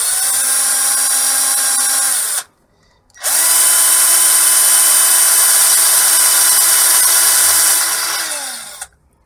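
A power drill with a slightly rusted, dulled 6mm bit bores holes in a solar charge controller enclosure, giving two loud, close, sustained whines separated by a brief pause, with the second run winding down at the end.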